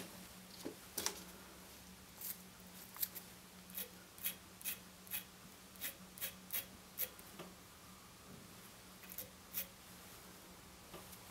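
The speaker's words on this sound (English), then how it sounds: "Any super long hairs you can just pull off, trim off." Small scissors snip stray long hairs on a tied Wonder Wing sedge caddis fly, giving a series of quiet, close, crisp clicks in an uneven rhythm with short pauses between cuts.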